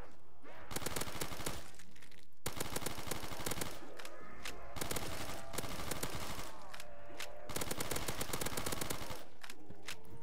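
Rapid bursts of automatic gunfire from Black Ops 3 custom zombies ring out in several long volleys separated by short pauses, loud and close.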